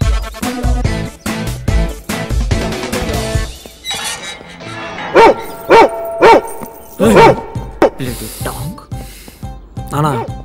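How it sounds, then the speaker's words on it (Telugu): A dog barks in a staged scene from a Telugu web series, giving a run of loud, close, evenly spaced barks midway through. Other clattering and rustling noises come before and after the barking. "ఇలాంటిలో కుక్క ఉంది, అది అరుస్తుంది."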